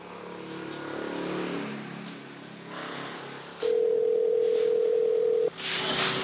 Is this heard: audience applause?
no